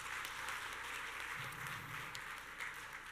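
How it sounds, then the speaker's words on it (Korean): Steady, sustained applause from an audience at an economic forum in Chungbuk, heard as a dense, continuous wash of clapping from start to finish with no pauses. "박수 한번 쳐주시면 감사하겠습니다."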